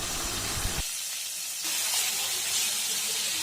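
Cumin, four bay leaves and finely chopped onion dropped into hot oil, a loud, steady hissing sizzle that jumps in intensity as the ingredients go in and continues close and unbroken, with no talk.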